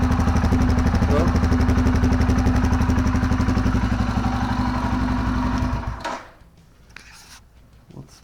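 A Royal Enfield Himalayan motorcycle fitted with a new, louder muffler idles close by in a steady, throbbing rhythm for about six seconds. The engine then cuts off, leaving quiet clicks and faint ticking.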